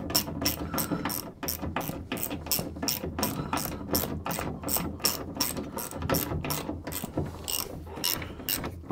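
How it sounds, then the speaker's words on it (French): A hand ratchet tightens 13 mm screws on the rear shock absorbers of a Renault Twingo, making rapid, steady clicking strokes close by that repeat throughout. "je suis en train de serrer mes vis de 13 là"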